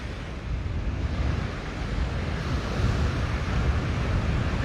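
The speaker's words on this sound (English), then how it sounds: "with this wind as tough as it is today" Strong wind gusts over Lanikai Beach on Oahu buffet the microphone with a constant low roar, mixed with the rush of surf, and swell slightly louder toward the end.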